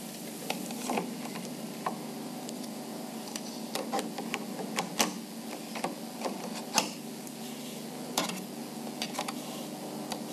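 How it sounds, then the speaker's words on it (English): A Bond Classic knitting machine carriage slides along a row of needles, giving a steady close rattling hiss with irregular light clicks and taps throughout. "Move the carriage to the start of the row"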